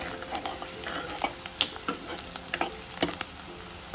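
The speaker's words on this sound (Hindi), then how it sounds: "और थोड़ा सा भून लो प्याज को" Onions and garlic frying in a pan for laal saag, with a steady sizzle and repeated scraping stirs and light utensil clatter close by, no talking.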